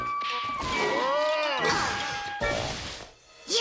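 A cartoon crash as someone smashes into a damaged transporter, a loud clattering impact with metallic ringing and whooshing effects, followed by a second sharp hit.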